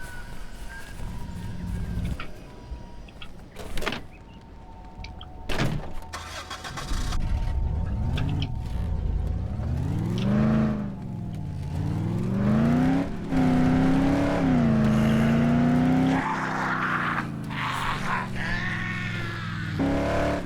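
Car engine starting and driving in the Dead Island zombie survival video game, with a loud rising and falling engine note that revs up steadily and stays loud, a few clunks at the start.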